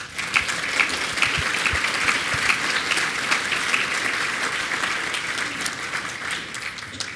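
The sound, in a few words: audience applause at manufacturing event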